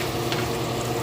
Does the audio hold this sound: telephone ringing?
no